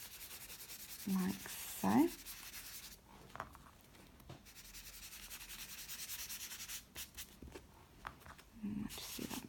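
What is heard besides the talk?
pastel chalk rubbed onto a journal page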